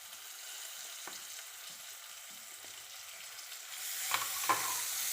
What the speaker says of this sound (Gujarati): હવે એમાં એડ કરીશું ડુંગળી.